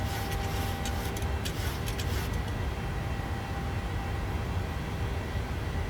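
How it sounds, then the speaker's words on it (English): Trim wheel turning in a PMDG 737-800 cockpit in Microsoft Flight Simulator: a quick run of faint, rapid clicking over steady engine and cabin rumble for about two seconds, then only the rumble. "That sound you hear, that is the actual trim wheel."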